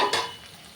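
Okra and potato frying uncovered in a pan: one quick spatula scrape over a soft, steady sizzle that fades slightly.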